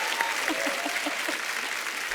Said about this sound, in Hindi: इससे भी तालियां हैं। इसमें भी तालियां।